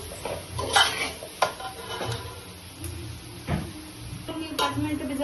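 Masala stirred in a cooking pot, with intermittent scraping and clinks of a spoon against the metal, close and fairly quiet, while someone talks in the background.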